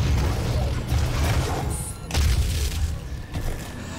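In the classic shooter Doom, a heavy weapon fires and explodes as a deep, rumbling boom, followed by a second loud blast a moment later over dense low-end roar.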